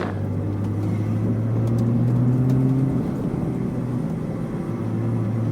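A salvage Ferrari rolls through a parking lot lap in low gear, its engine producing a steady close drone that swells slightly in pitch and then settles back, with no voices over it.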